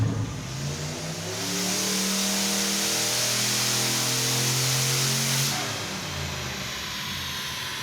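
A turbocharged Mazdarati engine revs hard under load, its mid-pitched roar climbing loud and steady for several seconds before easing back to a lower drone.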